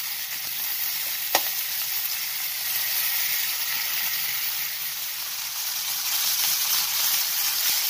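Garlic sizzles steadily in a frying pan, a close, even hiss of hot oil with one faint clink near the start and no voices.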